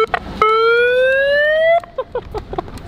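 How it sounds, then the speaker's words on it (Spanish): A vehicle siren sounds one loud, steady, slowly rising tone for over a second, surrounded by sharp knocks and clatter before and after. "Toca la sirena,"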